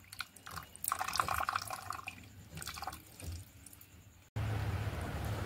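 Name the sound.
juice dripping through a strainer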